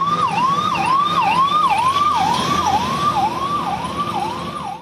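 An ambulance from India's 108 emergency ambulance service sounds its siren, a loud, close wail that sweeps up and down in a rapid, regular cycle and fades slightly at the end.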